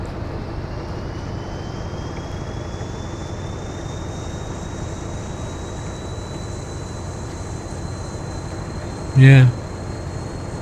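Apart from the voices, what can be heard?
train engine at full throttle, Train Sim World video game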